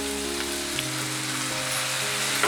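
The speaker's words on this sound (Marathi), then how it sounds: "आता मी यामध्ये सोया सॉस घालत आहे।" Baby corn chilli fries in a hot pan as soy sauce goes in, giving a steady, close sizzle like rain with a low hum underneath and no speech.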